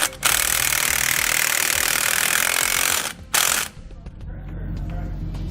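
Socket ratchet tightening end link bolts on a rear anti-sway bar of a 2016 Thor Windsport motorhome, a loud, fast, continuous clicking that runs for about three seconds, then stops, then a brief burst and quieter mechanical handling.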